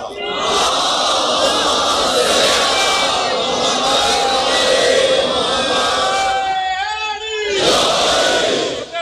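A large crowd loudly recites salawat in unison at a religious gathering, a sustained roar of voices that briefly dips and then swells again.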